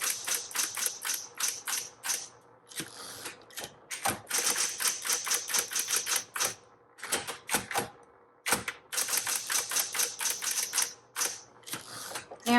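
Typing on a metallic green 1960s Smith Corona Coronet electric typewriter: rapid, crisp key strikes in bursts with short pauses, a mechanical hum and clunks of carriage movement, close and clear.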